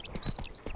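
Hooves of the horse Roach in The Witcher 3 make a quick, soft clip-clop, four or five muffled beats in under a second over a low, busy game background.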